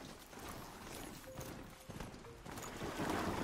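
Horse hooves in Horizon Zero Dawn, a quiet, fast, continuous patter of galloping steps under a low background rumble.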